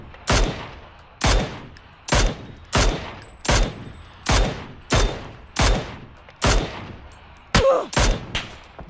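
Single gunshots in PUBG fired at a bot on Miramar, nine loud, close reports spaced about a second apart with ringing echo tails, the last one rougher.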